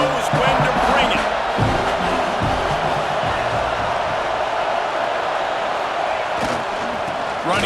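A packed stadium crowd at a College Football 26 video game match roars and swells steadily, with a few sharp thumps and whoops breaking through the constant broad din.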